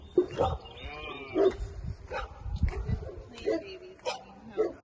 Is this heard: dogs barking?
yes